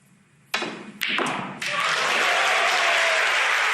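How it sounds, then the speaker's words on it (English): A snooker crowd at the English Open 2022 final breaks into a loud cheer and sustained applause after a pot, opening with a few sharp thumps before the clapping swells and holds steady. "Big cheer as Mark Selby knocks in the first pot of the evening"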